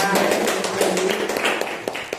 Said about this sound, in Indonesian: Sebelumnya tepuk tangannya untuk kelompok 3.